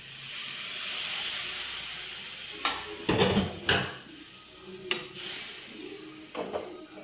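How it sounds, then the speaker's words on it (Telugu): Mutton stock water being poured into a hot pan of fried cooked mutton pieces for a sherwa, giving a steady sizzle and hiss with several sharp bursts of splashing and steam, close and alone. "ఈ మటన్ ఉడకబెట్టిన వాటర్ ఉన్నాయి కదా,"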